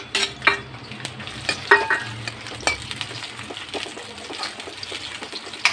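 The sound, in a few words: onions frying in hot oil in an iron kadai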